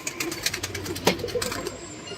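Pigeons coo softly in a loft, a low murmuring warble running through a busy background of other faint bird noise for a couple of seconds.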